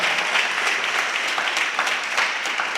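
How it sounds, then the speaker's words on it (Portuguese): A church congregation applauds for Jesus during a sermon, a broad continuous wash of clapping from a large crowd, steady and fairly loud throughout. "dá um aplauso a Jesus aí"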